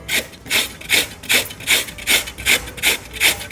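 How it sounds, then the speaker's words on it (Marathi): Raw red pumpkin, skin left on, grated by hand on a kitchen grater: about nine steady rasping strokes, close and clear, with no talking. "अशा पद्धतीनं आपण लाल भोपळा किसून घेऊ"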